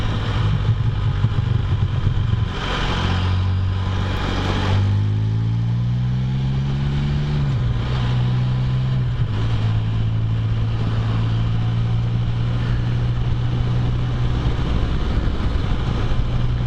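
A Can-Am Spyder three-wheel motorcycle rides along a back road on a warm day, its engine droning steadily and close, pitch rising through a run of gear changes and then holding at a cruising hum, with wind noise throughout and no talking.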